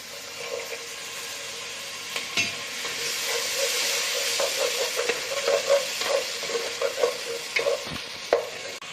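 Masala paste frying in a pan gives a continuous sizzle, broken by repeated scraping and clacking strokes of a spatula stirring it at close range.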